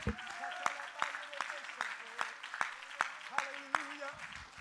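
Church congregation clapping hands in a steady rhythm, sharp claps at roughly half-second intervals over reverberant room noise and faint voices, moderately quiet.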